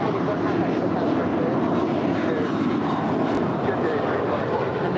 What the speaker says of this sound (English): And that is an A321.